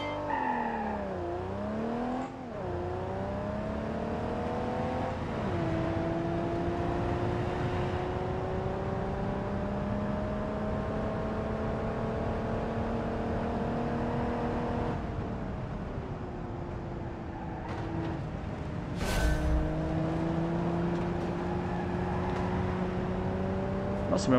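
In the BeamNG.drive driving game, a car engine on a racing track mod revs and accelerates, its pitch climbing and dropping through several gear changes in a sustained, moderately loud whine.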